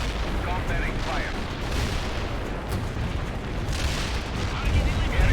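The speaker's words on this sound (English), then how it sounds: "Bomb deployed as ordered" Continuous rumbling booms of bomb explosions and artillery fire in the video game World in Conflict, a dense roar that swells toward the end, with faint radio-style voices mixed in.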